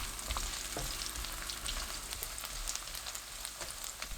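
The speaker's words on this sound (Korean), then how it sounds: "팬에 올리브 오일 4큰술, 마늘, 건 홍고추 한두 개 넣고 중불로 1분 30초 볶아주세요." Garlic and one or two dried red chillies frying in four spoons of olive oil over medium heat, a faint, even sizzle with light crackles close by and no voices.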